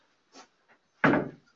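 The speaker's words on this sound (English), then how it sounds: "Let me close my door." A room door shuts with a single firm thud after a couple of faint rustling movements, fairly close and alone without talk.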